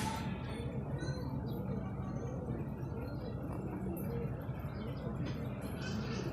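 Racing pigeons returning to an outdoor loft after a training toss coo softly amid a constant open-air background, with faint bird calls scattered through.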